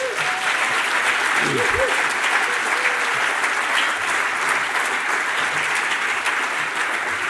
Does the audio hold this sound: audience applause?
yes